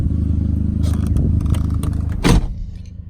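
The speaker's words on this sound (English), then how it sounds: "let's go ahead and shut the door." A 2004 Volkswagen Jetta door swung shut from inside the car, one solid thud heard close over a running engine's steady low rumble and some light rustling.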